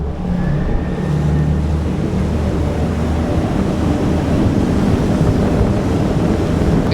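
Halma HR30 RIB inflatable boat accelerating onto the plane, a steady loud roar of outboard engine mixed with rushing water, spray and wind buffeting the microphone, with no voices throughout.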